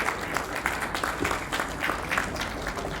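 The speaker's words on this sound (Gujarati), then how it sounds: "એક વખત જોરદાર તાળીઓ હોવી જોઈએ એમના માટે" An audience applauds guests called up onto a stage, a sustained, even burst of many hands clapping at moderate loudness that fades at the very end, with no talking.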